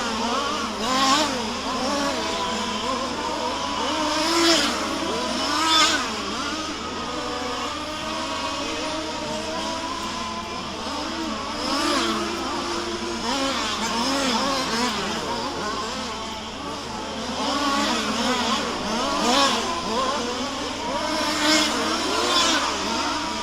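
Race car engines roar and whine past on a track at Warm Springs, a race main event, revving up and down in repeated waves of loud, continuous engine noise with no talking.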